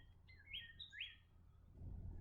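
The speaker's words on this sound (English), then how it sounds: "listen to birds" Faint outdoor birdsong: a few short, rising chirps in quick succession, then quiet with a low soft background rumble, no speech.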